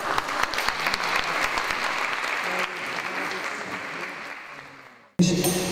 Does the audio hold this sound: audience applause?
yes